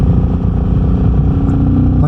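A Royal Enfield Meteor 350 single-cylinder motorcycle rides through freezing winter conditions, a loud, steady low thumping engine drone with wind rumble, heard close up from the rider's position.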